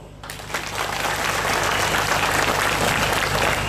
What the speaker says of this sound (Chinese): 听过这个名字的拍手。